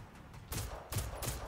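Gunfire in the video game Generation Zero, with bursts of shots that come in about three broadband volleys, loud and fairly close over a low rumbling game background, with no talk.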